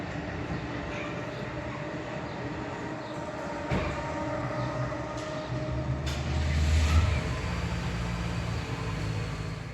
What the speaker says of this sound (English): The first video shows an Acela train moving through the interlocking as it heads from Washington,